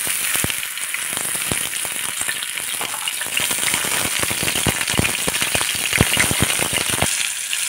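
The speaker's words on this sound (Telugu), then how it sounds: "ఇందులోకి ఆయిల్ వేసుకొని మిర్చి వేసుకొని ఫ్రై చేసుకున్నాం" Chillies fry in hot oil in a pan, a loud crackling sizzle dotted with rapid sharp pops and spatters, continuous and close with no voices.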